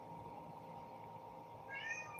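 A pet cat meows once near the end, a short rising cry standing out over a quiet, low background hum indoors, faint overall and without any talk.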